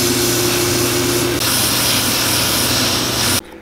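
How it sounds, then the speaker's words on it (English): A loud, steady whirring sander grinds a Clarks Wallabee boot sole continuously at close range, then cuts off abruptly near the end. "Let me show you what sanding will do."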